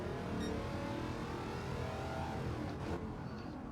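Race car engine in Gran Turismo 7, the Wicked Fabrication GT 51 at Grand Valley South, droning loud and steady under load as revs rise and fall through gear changes.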